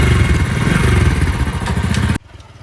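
A motorcycle carrying riders to a village wedding runs loud and close with a throbbing engine note, then abruptly falls much quieter as it pulls away.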